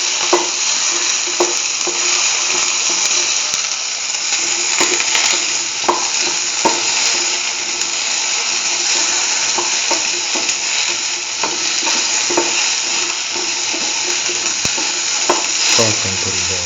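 Shallots sizzle and fry in a pan for an okra stew, a dense continuous crackle broken by frequent clinks and scrapes of stirring close by.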